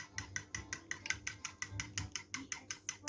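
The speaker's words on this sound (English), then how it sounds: "So I'm just here whisking." Rapid rhythmic clicking of a whisk beating egg in a bowl for scrambled egg, a steady series of about fifteen to eighteen sharp, close taps with no talking.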